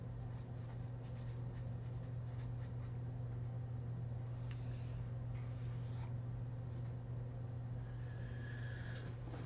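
Pencil writing and sketching on paper while labeling a photosynthesis diagram, with soft, continuous scratchy strokes over a steady low hum.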